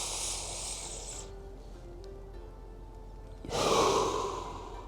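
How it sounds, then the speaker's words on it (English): Slow, deep diaphragmatic breaths: a long airy inhale-like rush fades into a quiet pause, then another full, hissing breath swells up, close and unhurried with no talking. "take 8 deep breaths in, hold for 4 seconds, breathe through the diaphragm."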